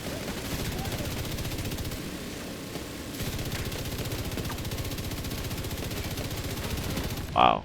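Iron Lung light machine gun firing in the video game The Division 2, a continuous rapid stream of shots with a brief break midway, under game sounds.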